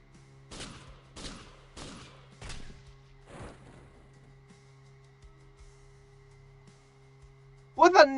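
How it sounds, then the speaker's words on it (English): Nail gun firing in the video game The Xcom Files: five sharp, evenly spaced bursts in quick succession, then a quiet hum and a loud clattering burst at the end. "I think that's a nail gun?"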